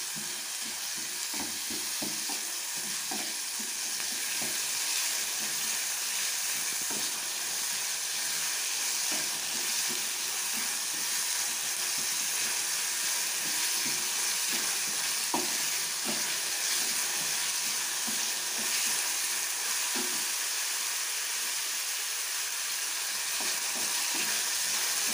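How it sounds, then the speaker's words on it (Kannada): Onion frying for egg bhurji on a low flame, a steady soft sizzle with repeated scraping and stirring of a spatula in the pan running throughout, no voices. "ಫ್ರೈ ಮಾಡ್ಕೊಳ್ಳಿ ಇದನ್ನು ಚೆನ್ನಾಗಿ. ಲೋ ಫ್ಲೇಮಲ್ಲಿ ಇಟ್ಕೊಳ್ಳಿ"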